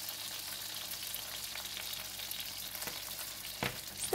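Spinach and fish balls stir-fried in a pan give a dense, continuous loud sizzle, with a couple of brief stirring knocks near the end.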